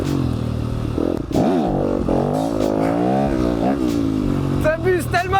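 Trial motorcycle engine revving up and down close by, with the pitch swooping between bursts of throttle and some clatter, while people speak over it.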